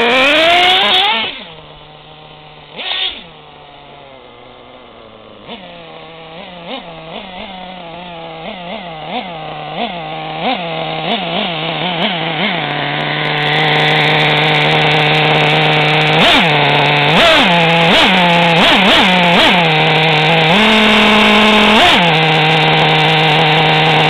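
A small RC car engine buzzes loud and close, first in short throttle blips, then rising into a sustained, high-pitched wail at high revs. It has a nasal, chainsaw-like whine, with no talking.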